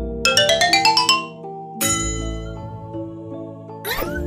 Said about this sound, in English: Xylophone.